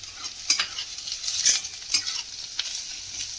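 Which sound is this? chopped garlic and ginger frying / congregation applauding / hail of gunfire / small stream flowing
chopped garlic and ginger frying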